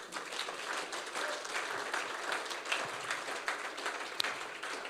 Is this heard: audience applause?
yes